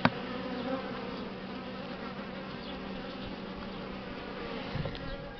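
Buckfast honey bees hum steadily and densely around an open hive box of a small split colony, a close, continuous buzz with a brief knock at the start.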